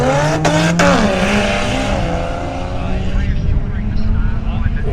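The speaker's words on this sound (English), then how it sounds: "Now we got a Falcon versus an FC RX-7." Two drag-racing cars, a Ford Falcon and a Mazda FC RX-7, launch together at a JDM and rotary show, their loud engines revving and rising in pitch as they pull away, with crowd and commentary noise underneath.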